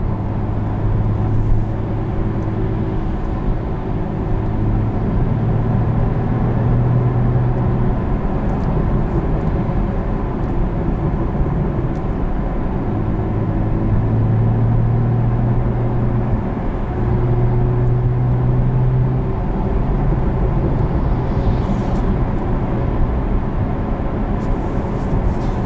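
A 2019 Porsche 911 Carrera GTS cruising on the road, with a steady, loud engine drone and road rumble heard from inside the cabin, holding even with slight pitch shifts and no talk.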